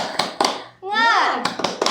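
Indonesian group doing the rhythmic 'tepuk semangat' spirit clap, a few sharp claps in a patterned beat around a chanted vocal shout, close and lively.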